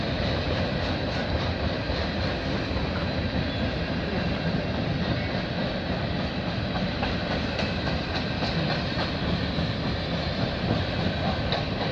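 Freight train rolling slowly past in Milton, Ontario: a steady, loud rumble with rhythmic clickety-clack of wheels over rail joints, continuous and close, no talking.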